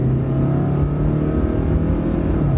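A 98-horsepower car engine drones steadily and loudly, its pitch holding then easing slightly upward as the vehicle accelerates, heard from inside or close by.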